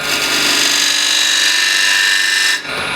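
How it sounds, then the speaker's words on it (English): A 10mm spindle gouge cuts into a wooden bowl spinning on a lathe, giving a loud, continuous, bright scraping whir close by that cuts off abruptly near the end as the tool lifts away. "I'll use a 10mm spindle gouge. Make a slight dovetail foot."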